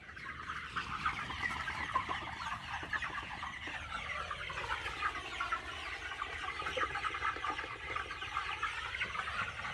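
Poultry farm chickens cluck and chatter as a dense, continuous flock murmur, steady and moderately loud, with no voices over it.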